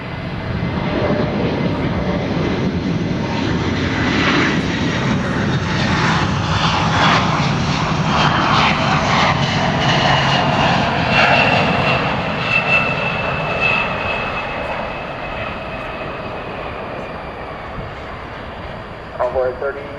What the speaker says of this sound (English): Made a proper 747 sound, did it not?